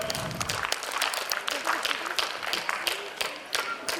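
Enthusiastic applause from an audience at an annual general meeting prize ceremony honouring students for their HSC science results, steady dense clapping for about four seconds, with a voice briefly audible over it.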